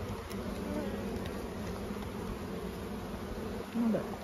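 Honey bees on a brood frame from an Ontario hive make a steady close buzzing drone throughout, with a single louder pass near the end.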